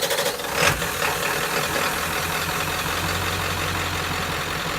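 An older car's engine cranks with a short burst of noise, then catches and settles into a steady, moderately loud idle with a low hum and faint knocking.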